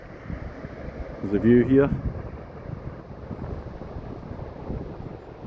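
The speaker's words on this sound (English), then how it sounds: "The wind's coming heading northwards, it's a southerly wind." Southerly wind blowing across Whitby Golf Club on the coast, a steady broadband rush and buffet on the microphone throughout, with a brief voice speaking over it.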